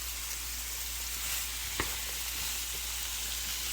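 Tomatoes heating in a pan with a faint, steady sizzle under a low background hum, with one brief knock of a spoon or pan while being mixed.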